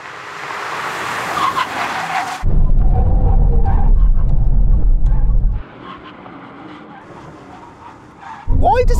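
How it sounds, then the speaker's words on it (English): Aston Martin Valkyrie, Vanquish and V12 Vantage making a full emergency stop from 100 mph: a loud rushing roar gives way to a heavy, rumbling low drone, then fades to a quieter hiss before a sharp squeal-like burst near the end. "Let's do the brake test from 100 miles an hour. When we reach the line, full emergency stop."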